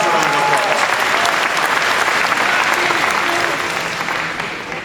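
Sustained applause from a large crowd at a state Republican Party convention in Springfield, Massachusetts, steady and loud throughout before tapering slightly at the end.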